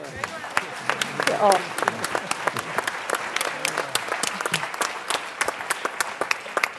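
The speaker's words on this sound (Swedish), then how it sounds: "Hörrni, en varm applåd." Warm applause from an audience at the closing session of a Swedish heritage board's autumn meeting, dense steady clapping filling the room, with a brief spoken word and some voices underneath.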